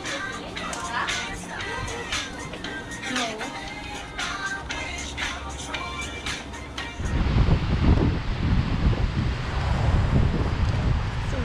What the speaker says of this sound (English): Windy, first day.